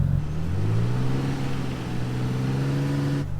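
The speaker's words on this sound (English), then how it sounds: "get a little bit of gas and just back up" A vehicle engine given light throttle while backing up gently, a steady mid-pitched hum that rises slightly in pitch and holds for a few seconds before cutting off, heard close with no talking.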